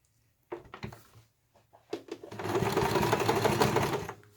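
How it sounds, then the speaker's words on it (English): A sewing machine stitches fabric for a beginner's peg bag, with a few back stitches and then a run around a curve. A couple of short, close stop-start bursts give way to a steady, loud mechanical whir that runs for about two seconds. "let's take that to the sewing machine"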